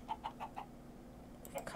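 A chicken in the Minecraft Sky Block game gives four quick, faint clucks in a row, then one more after a short pause.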